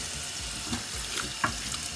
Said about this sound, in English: We're going to give it a quick rinse